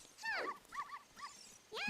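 Richard the dog from Ocarina of Time yips and whimpers in a few short, high-pitched bursts with brief pauses between them, fairly close and clear.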